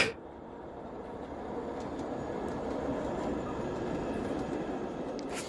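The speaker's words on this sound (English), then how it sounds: "I could hear the sound of the train, accompanied with faint vibrations" A train rumbles steadily past at moderate distance, a continuous low rolling drone that swells slightly in the middle, with no voices over it.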